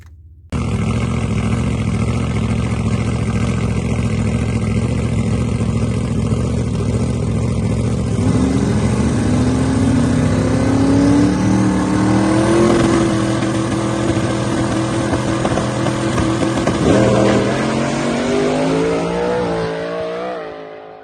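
Twin-turbo Hemi drag race car making a full pass at a race, a loud sustained engine roar climbing in pitch through the gears for about twenty seconds before fading.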